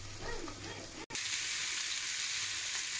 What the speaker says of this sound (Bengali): ওই যে ওই দিক দিয়ে আমি রসুন আর পেঁয়াজগুলোকে ভেজে নিচ্ছি সিম ভর্তা বানানোর জন্য